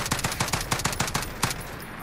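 FAL OSW rifle firing fully automatic in Call of Duty Modern Warfare, a rapid, loud burst of about a dozen evenly spaced shots with no talk over it.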